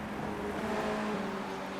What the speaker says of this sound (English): So Brian Boomsma comes across the line. He is the final victor in a Formula Renault Challenge race